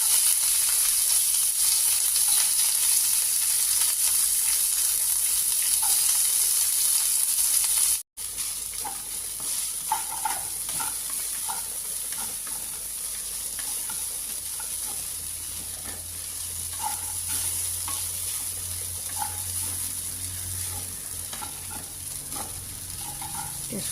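Mustard seeds and curry leaves frying in hot oil for poha, a loud continuous crackling sizzle up close with scattered pops, broken by a brief cut before the sizzle carries on more softly.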